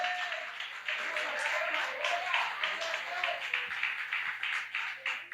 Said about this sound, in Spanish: Si lo vas a aplaudir, aplaude a Dios con gozo